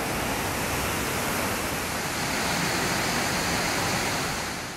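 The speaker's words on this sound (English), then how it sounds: "Waterfall hike." Broad, steady roar of a waterfall along a hiking trail, constant rushing water filling the scene at close range with no talking.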